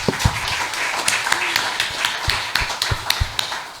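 A small group at a crypto education talk claps sparsely, with scattered individual hand claps and taps in an uneven rhythm, fairly close and moderately loud, with no clear talk over it.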